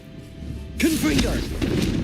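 Confringo blasting spell in Hogwarts Legacy: after a quiet lead-in, a sudden whooshing burst hits with rising and falling tonal swirls, and a brief voice calls out alongside as the blast rings on.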